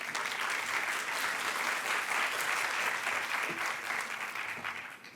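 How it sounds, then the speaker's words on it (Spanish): Audience applause at an international conference on gender in the administration of justice, a continuous dense clapping that holds steady and then starts to taper off at the end. "Un aplauso, por favor."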